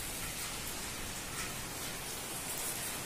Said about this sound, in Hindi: ये कितनी जोर जोर से बादल गरज करके बारिश हो रही है